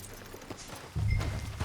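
Horse hooves clip-clop in Red Dead Redemption 2, a short run of soft, fairly close steps that turns into a louder, heavier patch of hoof thuds and low rumble near the end.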